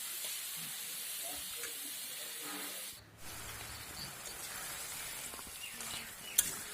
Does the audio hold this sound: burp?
no